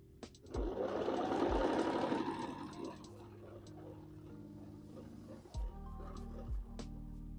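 Sewing machine running steadily as it stitches quilt pieces for a quilted scarecrow with a very scant seam, a continuous mechanical whir that slows and stops with a few soft thumps near the end.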